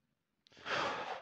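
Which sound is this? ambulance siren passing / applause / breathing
breathing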